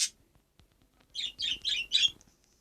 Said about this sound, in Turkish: Benim evde kuşum var